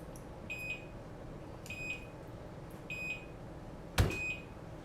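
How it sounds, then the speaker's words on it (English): Repeated electronic beeps from an FPV drone under repair, in short double or triple bursts about once a second, faint over a low hum, with a sharp knock near the end. "That'll stop beeping in just a minute."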